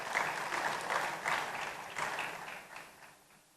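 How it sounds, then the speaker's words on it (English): A crowd claps steadily for a few seconds, the applause fairly distant and fading out toward the end. "Please let's applaud him."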